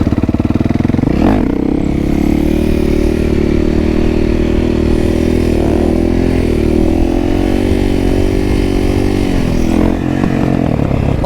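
Motorcycle engine runs loud and steady throughout a ride, with a rev surge near the start and slight pitch dips as the rider slows and brakes, close-miked with wind rumble.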